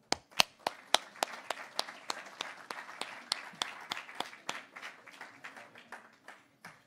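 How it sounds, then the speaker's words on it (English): A small group at a World TeamTennis draft event gives a round of applause, sparse distinct claps at an uneven rhythm that thin out and fade, fairly quiet and close. "everyone should just give themselves a round of applause"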